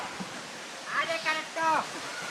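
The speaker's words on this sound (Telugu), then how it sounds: "చిన్న అంచనా వేసాను కానీ చాలా పెద్దగా ఉంది రా వాటర్ ఫాల్ అయితే" The large Cheekudhara waterfall at the edge of Kimmalagadda village in Rajavommangi mandal gives off a constant soft rushing roar, with a person talking over it in the foreground.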